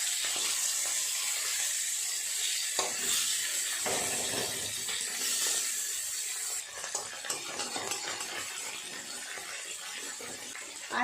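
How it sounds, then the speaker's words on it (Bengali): Hilsa fish tail pieces, coated in salt and turmeric, fry in hot oil in a pan, giving a steady, dense sizzle that holds throughout and shifts slightly as the pieces are turned. "উল্টে অপর পিঠটা ভাজা করে নেব।"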